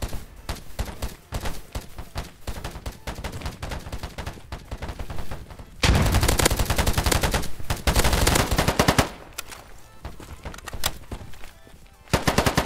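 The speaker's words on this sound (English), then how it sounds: "Where are those gunshots coming from?" Loud automatic weapon fire in an early-access military shooter game, rapid bursts and single shots rattling almost without pause, with a few brief lulls before more heavy firing.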